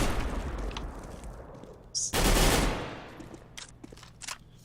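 Gunfire rattles through a competitive Counter-Strike match on de_mirage, with a low rumbling burst, a sharp loud volley a couple of seconds in, and scattered fainter shots afterward.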